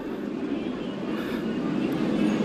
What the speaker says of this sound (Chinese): 你看那个叫战斗机